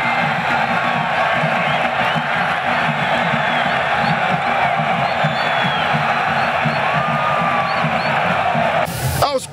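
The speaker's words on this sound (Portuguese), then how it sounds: "Gol para a torcida tricolor explodir de alegria." A packed football crowd at Albertão stadium roaring after a goal, sustained cheering and whooping from the stands, loud and steady throughout, with a sharp burst of noise near the end.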